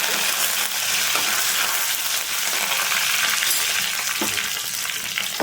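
Garlic cloves and curry leaves sizzle loudly and continuously in hot oil, a dense crackling hiss with a few stirring sounds, heard close up with no talk.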